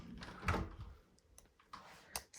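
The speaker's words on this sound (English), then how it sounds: "I'm going to open up the door here" A house door opening during a walk-through of a home in Warragul, a short clunk and rattle of the handle and latch followed by a few light knocks and clicks, close by and fairly quiet.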